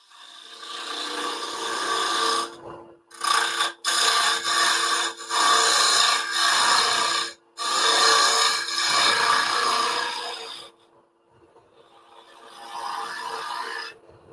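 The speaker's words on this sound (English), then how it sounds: "This is a carbide cup cutter." A carbide cup cutter shaves a small wooden snowflake bowl spinning on a woodturning lathe, producing loud close rasping scrapes in long bursts broken by short pauses, then a softer final pass.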